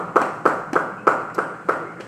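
A church congregation at a Bible study claps hands in a steady rhythm, seven or so crisp, evenly spaced claps ringing slightly in the room.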